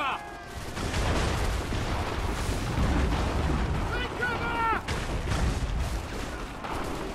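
Enemy gunfire in Assassin's Creed 3, a dense, loud barrage of shots and booming blasts running throughout amid battle noise, with whistling streaks overhead and a voice shouting at times.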